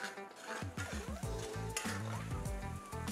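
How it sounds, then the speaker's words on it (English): Kashmiri red chili powder and misal masala stirred continuously in a pan for Kolhapuri misal, a close, crackling sizzle with repeated scraping and clinking of a spoon against the metal. "Stir continuously and cook for 3 minutes."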